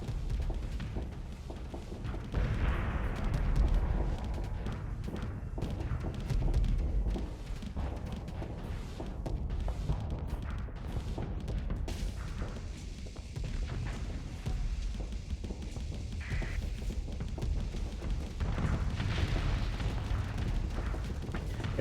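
Torpedo bombers strike enemy ships in the space combat game Starsector, a dense run of booming explosions and rumbling impacts layered over constant mechanical battle noise, with no speech.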